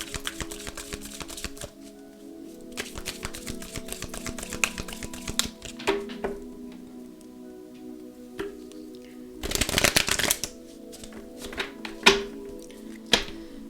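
Tarot cards from a triade spread being shuffled by hand, giving soft repeated riffling and tapping with a louder burst of flicking cards partway through, close and quiet, with no talk.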